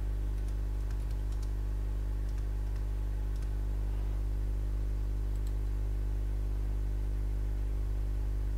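Computer keyboard typing with a few mouse clicks, steady light tapping over a constant low electrical hum, close and fairly quiet, with no talking.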